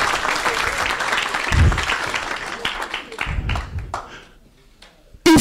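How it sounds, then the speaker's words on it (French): A church congregation applauding, a broad wash of clapping that swells and fades over several seconds, with voices mixed in, ending in a sudden loud thump. "On acclame la parole du Seigneur"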